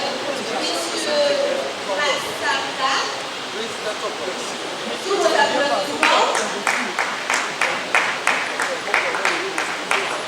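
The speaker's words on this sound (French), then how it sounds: "Sous vos applaudissements." Audience applause at a political party open day for Agir pour le Changement, a dense wash of clapping that swells around the middle and continues with rhythmic, fairly loud claps toward the end.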